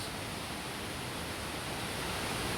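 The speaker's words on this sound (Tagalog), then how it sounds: "Ang pinakamataas na falls sa Cebu mga kalibot suroy, ang Mantayupan Falls." Mantayupan Falls, the tallest waterfall in Cebu: a steady, dense roar of falling water with no breaks and no voices.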